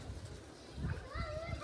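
A pigeon coos softly and close by in a short low burble, with faint children's voices and chatter in the background.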